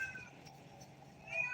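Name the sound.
cat meowing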